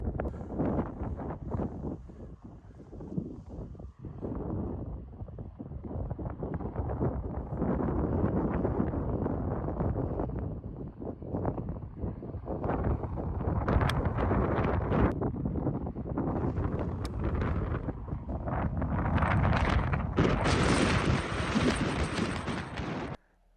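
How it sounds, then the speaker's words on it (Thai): Strong wind gusts across Fraserburgh Golf Course at the par-four 11th hole, a crosswind blowing left to right, producing a continuous loud roaring buffet on the microphone with no speech. "ตอนนี้คือลมแรงมากนะคะ"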